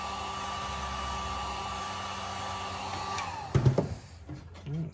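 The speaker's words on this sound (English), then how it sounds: "You want to make sure you keep the heat gun moving and not in the same spot where it's going to melt and bubble the plastic." Heat gun warming plastic on an Aerodynic build, a steady blowing hum with a faint tonal whine that runs for about three seconds, then cuts off into handling clatter and thumps.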